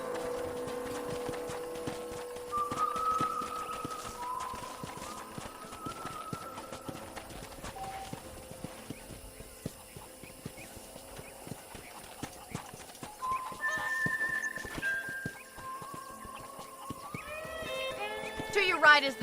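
In the video game Red Dead Redemption, rhythmic clip-clop of horse hooves runs throughout with a musical backdrop, and a horse whinnies near the end; a voice speaks at points.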